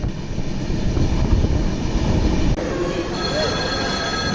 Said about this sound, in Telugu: Itarsi railway station.